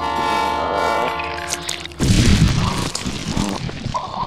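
A train horn blares in a long, loud, sustained chord, then breaks off into the heavy rumble and clatter of a train passing close by.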